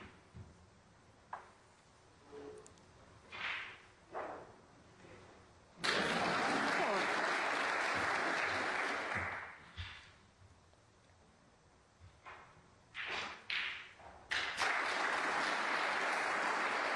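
Snooker audience applause at the English Open: a sustained burst of clapping for several seconds, then quieter clicks and scattered claps before a second round of applause starts at the end.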